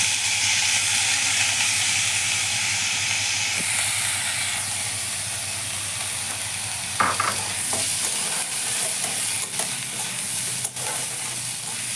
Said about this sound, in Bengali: চালটাকে এখন সুন্দর করে ভেজে নেব।